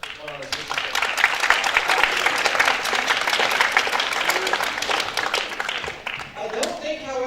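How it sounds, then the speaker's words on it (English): School chapel audience applauding, a dense, steady wash of many hands clapping across the whole stretch, easing briefly near the end before swelling again. "let's give a round of applause for the going on this mission trip"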